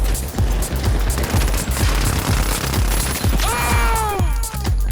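Uzi submachine gun firing in the shooter game The Finals, a rapid steady stream of close, punchy shots, with a whistling ricochet-like tone near the end.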